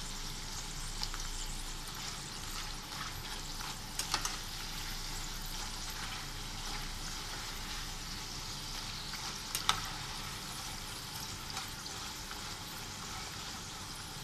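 Homemade potato chips frying in hot oil and being stirred, a steady close crackling sizzle with a few sharper clinks of the utensil, no talking.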